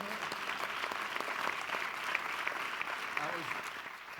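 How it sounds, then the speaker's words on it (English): An audience at a special event with sustainable development advocates gives a round of applause, a steady wash of clapping with a few voices mixed in. "we should give a round of applause"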